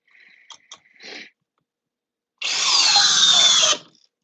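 A Flex Compact cordless drill with a stacked lithium battery whirs at speed 2 in drill mode in one steady burst of about a second and a half, after a few short clicks and a brief scrape.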